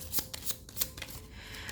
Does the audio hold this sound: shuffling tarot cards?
yes